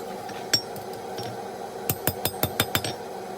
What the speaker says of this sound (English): Now I'm going to take a ball punch and make a countersink in my little flat spot.